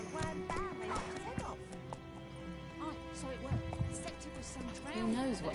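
Roach, Geralt's horse in The Witcher 3, whinnies and snorts near at hand while hooves clop steadily, with talking voices running over much of the sound.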